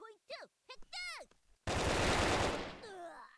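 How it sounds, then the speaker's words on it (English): A burst of rapid automatic gunfire in the blocky shooter Brick Force, loud and continuous for about a second, preceded and followed by chirpy electronic tones. "I shot that guy like 6 times in the head"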